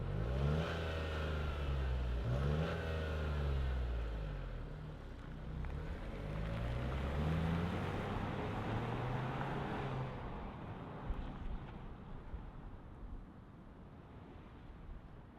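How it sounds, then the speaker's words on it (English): A 2025 Nissan Rogue Platinum with all-wheel drive rolls away, its engine a low, moderately loud hum that rises and falls in pitch as it accelerates, then fades to a softer rumble. "let's fire it up and see it roll."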